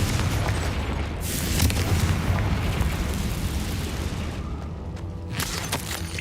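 A Confringo blasting curse from the Hogwarts Legacy game erupts in a sustained, heavy explosive boom with rumbling low end and crackling bursts, staying loud for several seconds before a few sharper pops near the end.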